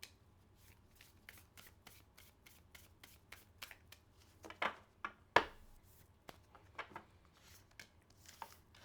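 A deck of oracle cards is shuffled up close, making quick, quiet papery flicks and riffles in a fast, uneven rhythm, with a few sharper slaps in the middle.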